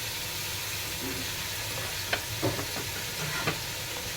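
Chicken biryani being stirred after fresh mint and coriander go in, a few soft scraping and mixing clicks over a steady low sizzle, quiet and close.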